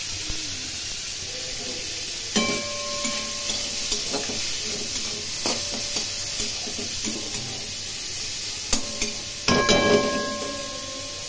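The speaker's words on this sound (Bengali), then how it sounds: "এর মধ্যে পেঁয়াজ কুচি দিয়ে দিলাম আর" Chopped onion and green chilli frying in oil, a steady sizzling hiss with occasional scraping stirs and clinks from the pan, close and fairly even throughout.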